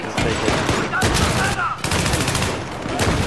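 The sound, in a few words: shotgun fire in video game Battlefield 3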